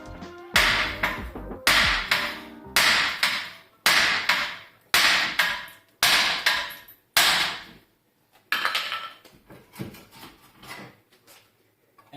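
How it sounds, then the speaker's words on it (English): Hammer strikes on a ball joint of a Nissan S13 rear hub, loud close metallic blows landing in a steady series of about eight to nine heavy hits, each with a ringing tail, and no talking. "I'm gonna do that with hitting it with a hammer right here"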